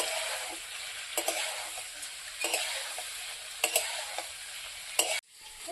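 Boiled potatoes and cauliflower fry in a hot pan with a steady sizzle, broken by a few sharp clinks as a utensil stirs and scrapes. The sizzle cuts off abruptly near the end.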